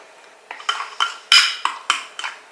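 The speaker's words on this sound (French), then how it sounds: "Donc là on a une cuillère à soupe d'eau, on mélange et on voit." A spoon mixes a tablespoon of water into a batter-like mixture in a bowl, giving about eight sharp clinks and scrapes against the dish in an irregular rhythm, close and fairly loud with no voices.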